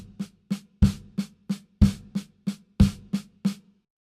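Drum kit playing a triplet accent pattern with accents moved to a high tom: about a dozen evenly spaced strikes over four seconds, some hits louder and boomier, played alone with no talking.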